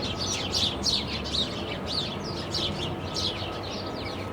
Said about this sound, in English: This house always has bird feed in their driveway.